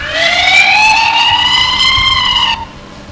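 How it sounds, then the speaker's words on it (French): A police drone's 130 dB loudspeaker siren gives one loud, sustained rising-and-falling electronic wail that cuts off sharply after about two and a half seconds. "Le haut-parleur, 130 dB."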